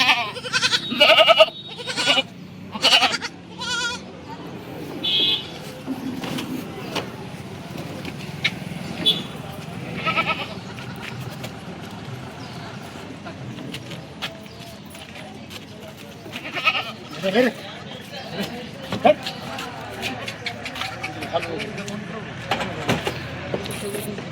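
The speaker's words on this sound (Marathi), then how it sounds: "हे बघा शेळीचे पिल्ले बघा कसे" Kathiyawadi goats and kids bleat repeatedly, some close and loud, others fainter, mixed with people talking nearby at a goat sale.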